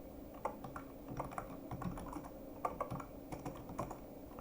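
Close typing on a computer keyboard while writing code, with irregular bursts of key clicks and a few louder strikes over a quiet room.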